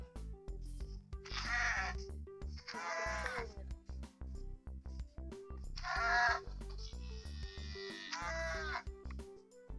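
Minecraft sheep bleat in a few drawn-out, wavering calls, two early and two later, over a steady electronic music loop.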